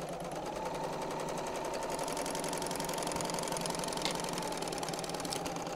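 A serger sewing machine runs steadily, stitching fabric with a dense, fast mechanical whir and rapid needle chatter that holds an even level throughout, close up with no talking.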